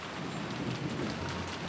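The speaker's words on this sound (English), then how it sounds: "there would be nothing for us to do but pass the time listening to the sound of the rain" Soft, steady rain hisses faintly and evenly in the background of the visual novel Umineko When They Cry, with no voices.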